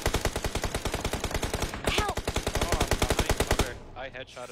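Rapid automatic gunfire in a shooter video game, a long, evenly paced burst of loud shots that briefly pauses then continues before fading, with a voice faintly heard near the end.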